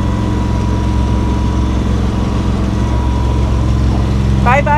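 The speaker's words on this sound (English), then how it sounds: "you can't hear me over the engine" Sailboat's inboard engine droning steadily and loudly while motoring away from Mazatlan toward Stone Island, a constant low hum throughout with a brief chirping sound near the end.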